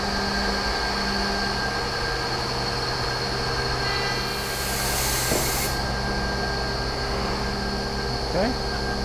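An Altendorf F5 edgebanding machine runs with a steady mechanical drone and whine, a brief burst of hissing air partway through and faint knocks near the end.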